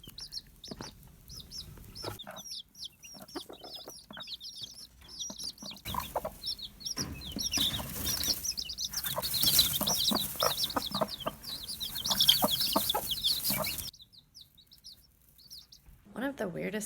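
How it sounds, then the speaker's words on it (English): Two broody mother hens cluck in a run of soft, repeated calls, joined by high chick-like peeps and chirps that swell in the middle before falling quiet, with light rustling underneath. "we got in the mail to our 2 broody mama hens"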